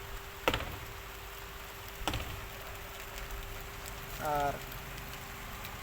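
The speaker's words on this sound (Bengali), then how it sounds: "বৃষ্টি হচ্ছে" Steady rain falls with a soft, even hiss, joined by a few sharp knocks and a brief murmur of a voice.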